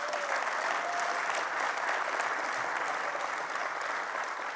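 Steady, sustained applause from an audience at a university alumni awards ceremony, a dense wash of many hands clapping at moderate distance throughout.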